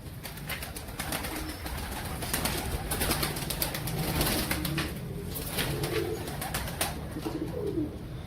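Pigeons coo steadily in soft overlapping calls, with occasional wing flutters and light scratchy movement close by.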